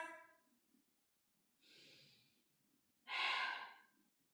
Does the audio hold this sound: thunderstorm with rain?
no